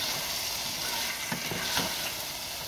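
Chicken sizzling and frying over high heat in a pan, a steady loud crackle throughout with a couple of brief stirring scrapes, no voices.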